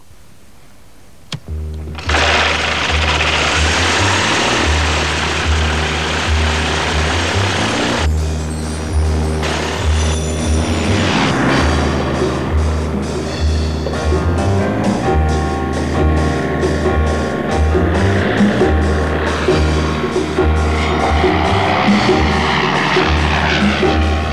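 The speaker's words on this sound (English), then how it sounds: "The only difference is the engine." Engine of a weight-shift powered glider in flight, a steady loud droning propeller hum that starts abruptly and holds constant throughout, with no talking.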